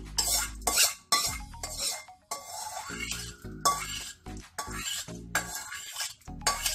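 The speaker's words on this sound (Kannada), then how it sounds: "ಈಗ ಮಾಡ್ಕೊಂಡಿರುವಂತಹ ಒಗ್ಗರಣೆ ಹಾಕ್ಕೊಳ್ಳೋಣ" Metal spoon clinks and scrapes against a steel vessel as a tempering is poured and stirred into fenugreek tambuli, in irregular bursts of close, sharp clatter separated by brief quiet gaps.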